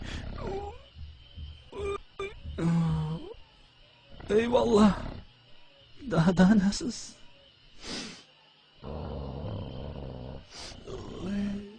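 Deep, rumbling animal growls come in several bursts, mixed with a man's excited speech and shouts throughout.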